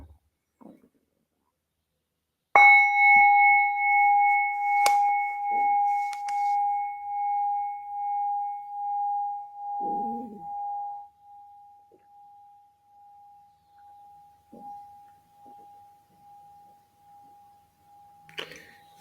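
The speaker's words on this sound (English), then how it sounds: "there was a silent pause before I tapped the singing bowl" A single struck singing bowl rings out after a few seconds of silence, its clear tone sustaining and slowly fading with gentle wavering for many seconds.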